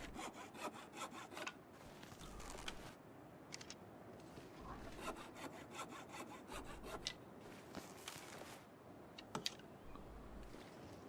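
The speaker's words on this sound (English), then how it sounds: "And then we use the hacksaw on the saplings" Hacksaw cutting through saplings in The Long Dark, a steady back-and-forth rasping saw stroke repeated rhythmically throughout, fairly quiet game sound effect with no speech.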